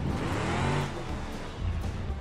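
Simulated car engine revving in the BeamNG driving game during a multiplayer downhill run, a steady moderately loud motor drone with a brief dip partway through, no talking over it.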